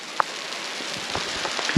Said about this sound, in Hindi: और ओले इतने ज़्यादा घिरने बैठ गए ना